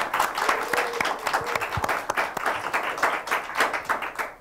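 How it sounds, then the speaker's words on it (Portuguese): Studio audience applause greets a guest arriving on a Portuguese-language TV talk show, a steady burst of many hands clapping together for several seconds, fairly close and full, with no talking over it. "Cadê os aplausos do Guilherme?"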